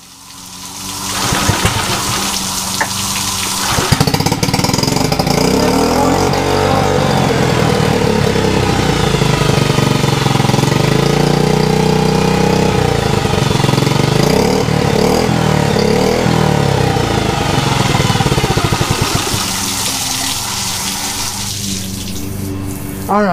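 A 2010 Yamaha 6hp F6 outboard engine runs in water, starting up after a second or so and then holding a steady, loud buzzing drone with churning water before easing down near the end.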